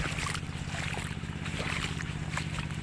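A water pump draining a backyard fish pond runs with a loud, constant low mechanical drone and steady pulsing throb, overlaid by rushing, splashing water noise close by.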